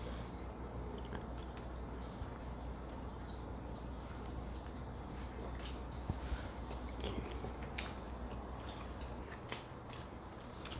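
Someone chews a piece of slow-roasted tri-tip beef close to the mic, with soft, steady wet mastication and faint crunchy bits throughout, no talking.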